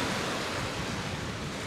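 Flowing water at a clear, emerald lake in New Zealand with snowy mountains nearby, a steady broadband rushing wash, soft and continuous with no voices.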